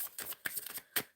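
Quick riffling of tarot cards in a few short bursts, close by and fairly quiet, with brief pauses between shuffles.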